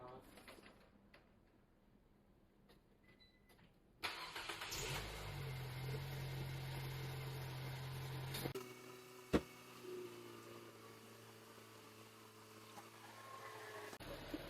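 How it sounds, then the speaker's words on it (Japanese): Car engine started and left running for thirty seconds during an air-conditioning service on a car struggling to cool in extreme heat; a steady mid-low idle hum sets in after a few seconds, with a brief sharp knock partway through. "30秒間エンジンかけます。"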